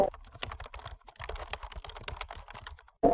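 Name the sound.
typing on a computer keyboard into a search bar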